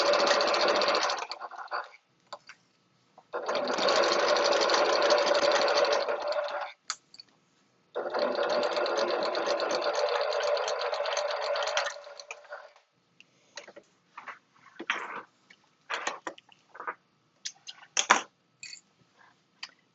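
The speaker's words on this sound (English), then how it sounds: "I sew until just before the curved area," A sewing machine stitching piping onto the exterior of a bowler bag: three sustained bursts of rapid whirring stitching with short pauses, then a series of brief clicks and short stitch runs as the machine backstitches, close and clear with no talk.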